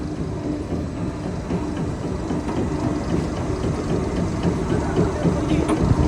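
An engine-driven machine in a field presses rice straw (paddy stubble) into fuel logs, giving a steady loud low engine drone with dense mechanical rumble and rattle throughout, no talk.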